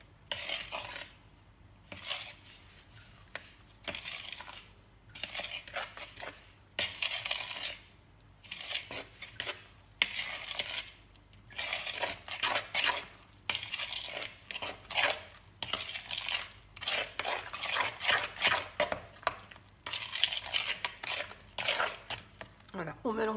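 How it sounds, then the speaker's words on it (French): Flour being stirred into a rice tart mixture in a bowl, heard as repeated close scraping and clattering strokes of a utensil in steady bursts, with no talking. "je vais mélanger le tout."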